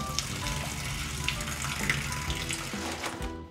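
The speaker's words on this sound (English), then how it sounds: "just crinkle up the bag and create like a little MacGyver spout and just pour the water out." Meltwater pours out of a crinkled spout in a plastic ice bag, a continuous splashing trickle with a bright, fizzy quality that runs steadily for a few seconds.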